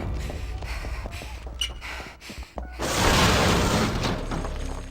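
In a video game bunker, a door slams and sets off a small explosion, a sudden loud boom and burst of noise after a few muffled thuds and rustles.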